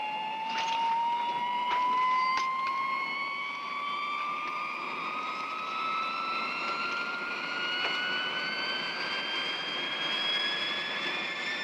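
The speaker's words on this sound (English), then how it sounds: "A low-wing, dual-control jet trainer, powered by 2 turbojet engines." High-pitched whine of a low-wing Air Force jet trainer's twin turbojet engines, with steady tones slowly rising in pitch over a faint background rush, continuous and moderately loud.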